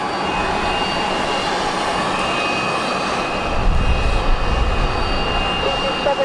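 A business jet taxiing close by at Luton airport, its engines producing a loud, steady whine and roar that swells slightly louder partway through.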